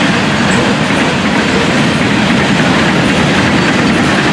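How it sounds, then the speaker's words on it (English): Loaded coal train rolling past close by, a loud, continuous rumble and rattle of freight cars clattering over the rails with faint wheel squeal and no voices. "A coal train."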